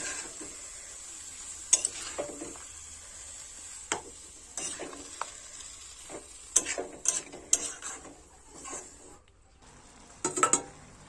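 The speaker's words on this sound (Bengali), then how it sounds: "পালং শাক আলু খুব ভালোভাবে নাড়াচাড়া করে কষাই করে নিতে হবে" Spinach and potatoes being stirred as they fry in a pan, with intermittent scraping and clattering of a spatula against metal over a soft sizzle, fairly close and alone.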